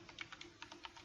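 Computer keyboard typed in quick irregular clicks during a MongoDB command-line demonstration, each keystroke crisp and close, about ten taps in a second with no voice over them.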